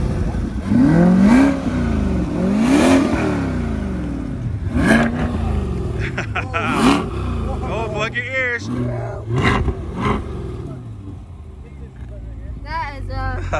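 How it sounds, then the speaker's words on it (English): A car engine in sport mode revs hard several times, roaring up and dropping back, with people talking and cheering over the bursts. "All sport mode revs, guys."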